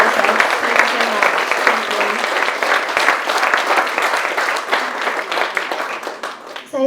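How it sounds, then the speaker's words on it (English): A conference audience gives sustained applause to panellists after a panel discussion on green social prescribing, dense loud clapping throughout with a few voices mixed in before it cuts off. "I'd like you to all give rounds of applause to our brilliant panellists"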